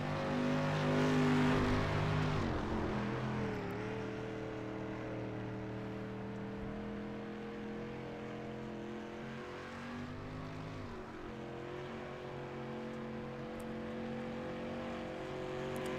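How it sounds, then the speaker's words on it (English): Andy Gross's number 14 street stock race car on a qualifying lap at Cedar Lake, a steady engine drone that rises and shifts pitch through the corners, heard from a distance across the track. "Let's watch the 14 car of Andy Gross."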